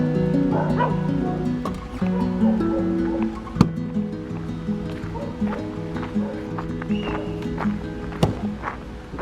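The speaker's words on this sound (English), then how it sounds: "Look at this little doggy." Small dog in a mountain town barking in repeated sharp yips and short whimpers, fairly close and alone.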